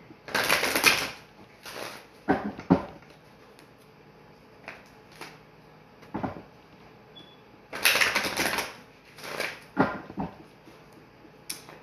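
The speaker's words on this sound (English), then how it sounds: "Let me shuffle these cards real quick." Playing cards being shuffled in several quick riffling bursts separated by pauses, close by, with small handling noises in between.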